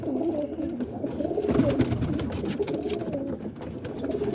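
A roller pigeon cooing close by, with soft repeated throaty coos over a steady outdoor background.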